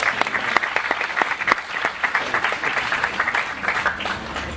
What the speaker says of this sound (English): If you can give him a warm round of applause, and let's make him feel welcome.